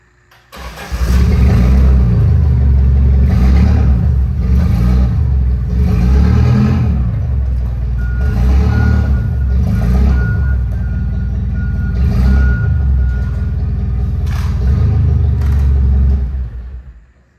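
Daewoo forklift idles steadily and loudly for the whole span, with a regular reversing beep repeating about every two seconds over the engine drone.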